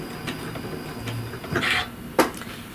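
A sewing machine runs a short lock stitch on a quilt being bound with chenille, giving a brief mechanical whir with a couple of sharper clicks in a quiet room.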